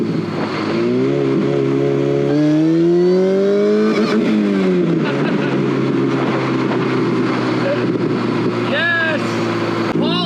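A street-legal go-kart engine revs and accelerates with rising and falling harmonic tones, up close and loud throughout, and a voice briefly talks over it.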